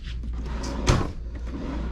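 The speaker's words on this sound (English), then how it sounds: "you got this nice little drawer right here" A drawer in a Royal Caribbean cruise ship cabin sliding shut with a single soft knock, brief and close, in an otherwise quiet room.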